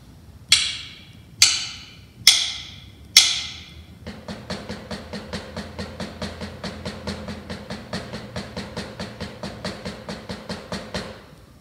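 A drum plays a single paradiddle variation built on double strokes: four loud, spaced hits, then a long run of quick, even, softer strokes at a steady rhythm, alone and close.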